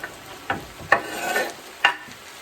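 Chunks of ham and smoked sausage drop into a pot for Russian solyanka soup, giving a few soft thuds and clinks at uneven intervals with a light sizzle and stir underneath.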